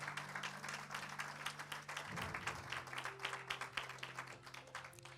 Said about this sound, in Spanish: Si le va a dar el aplauso, déselo.